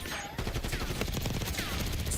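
Rapid sustained automatic fire from a GPMG7 light machine gun in Black Ops 6, a dense loud stream of shots over about two seconds.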